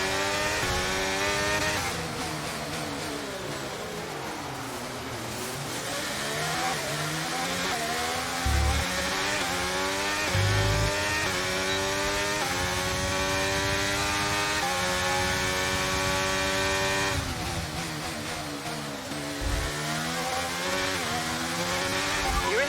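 An F1 race car in the F1 23 video game revs hard and accelerates back into the race, its engine pitch climbing through repeated upshifts in a loud, continuous whine that fills the whole stretch.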